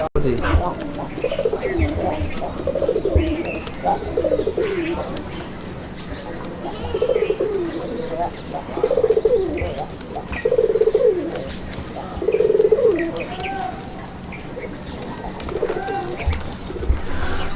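Raj-golla pigeons cooing in repeated soft, throaty phrases close by, several bursts over steady background noise with people talking at times.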